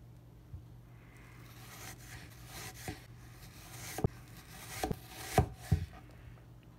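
A knife slices a yellow onion thinly by hand on a board. The sharp cuts are sparse and uneven at first, then come in quicker, firmer clusters toward the end, close and fairly quiet.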